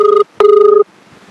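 An outgoing telephone call rings back with two steady electronic tones, a short one then a longer one, close and clear, followed by near silence.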